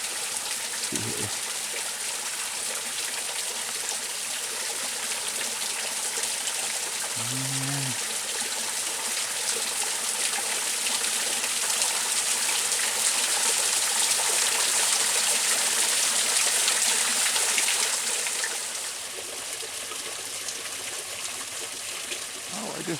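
A second small waterfall pours behind the first at an icy rock shelter, a broad steady rushing hiss that swells and then eases near the end, with brief sounds of handling.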